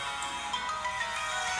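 A phone ringtone plays steadily at moderate volume, a continuous electronic tone with slight pulsing and no speech over it.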